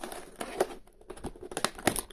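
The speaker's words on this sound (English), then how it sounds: "I think it might be easiest just to cut these ones open." Plastic Barbie doll packaging is cut open, giving close crinkling and snipping sounds with scattered sharp clicks, and nobody speaks.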